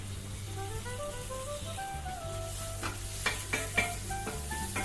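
Chopped tomatoes fry in masala in a pan while cooking Kerala-style squid roast, giving a low sizzle under steady background music, with a few spoon scrapes and knocks of stirring near the end.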